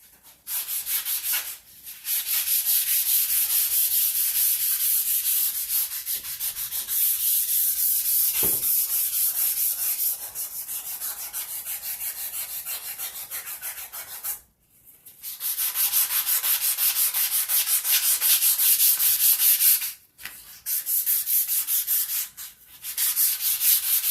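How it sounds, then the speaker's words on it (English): A buffing pad loaded with car polish works along the edge of a ceramic tile, giving a steady, loud abrasive whirring rub that runs in long stretches broken by a few short pauses. "you can put car polish on the buffing pad and you can polish this edge"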